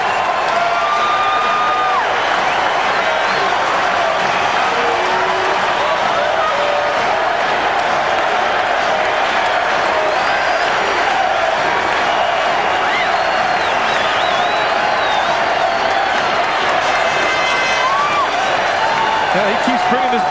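A packed ballpark crowd roars and applauds for Barry Bonds during his 2001 home run run, a dense, steady wall of cheering and clapping that holds loud throughout with swells of shouting.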